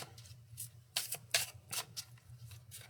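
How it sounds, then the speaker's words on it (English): A deck of playing cards is shuffled nearby in quick bursts of riffling and flicking, several short rustling runs in a row against a quiet background. "I'm going to go ahead and shuffle."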